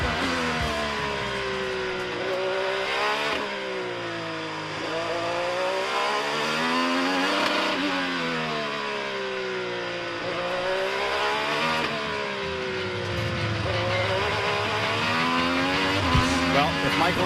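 An IndyCar race car's engine heard from onboard at St. Pete, rising and falling as the throttle opens and lifts through corners, loud and close, with a voice talking over it.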